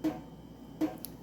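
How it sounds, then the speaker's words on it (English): Two separate water drips, each a short hollow plink, falling about three quarters of a second apart in a quiet room. "it is the sound of a leaky faucet"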